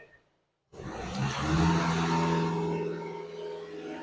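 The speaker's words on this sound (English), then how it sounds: "Do you want to give it a rev again, man?" A car engine starts and revs up in a steady sustained roar, close and loud, holding high before easing slightly, with no talk over it.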